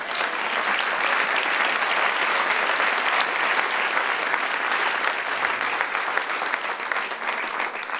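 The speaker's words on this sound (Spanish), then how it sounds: "Denle un aplauso al Señor." A church congregation at a service applauding together, dense, sustained clapping from many hands that stays loud and even throughout.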